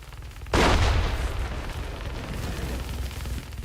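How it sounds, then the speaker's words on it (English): A grenade detonates in the shooter game Active Matter with a sudden loud boom after a short quiet lead-in, followed by a long, rumbling roar that slowly settles. "I'm gonna throw the grenade"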